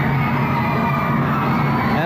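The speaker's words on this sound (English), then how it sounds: "And the crowd goes wild." Studio audience at a televised quiz show finals erupts in steady, loud cheering and shouting that fills the whole moment without a break.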